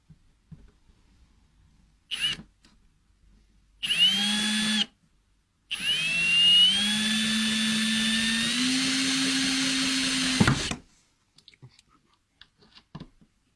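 A Tivoly power screwdriver drives screws in awkward, tight spots. It fires in short whirring bursts, then runs a longer steady whine that climbs in pitch before it stops, with quiet handling noises between runs.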